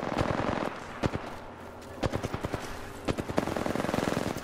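Apex Legends gunfire cracks out in repeated bursts and single shots, loud and close, with several rapid strings of rounds spread across the stretch and brief gaps between them.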